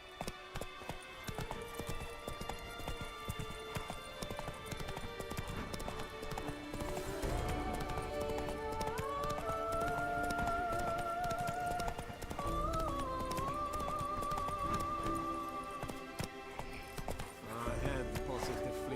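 Roach the horse's hooves clip-clop steadily in The Witcher 3: Blood and Wine, a regular trotting beat under game music and melodic tones, with occasional voice nearby.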